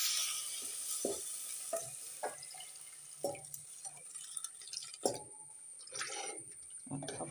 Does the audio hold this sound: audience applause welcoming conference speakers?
no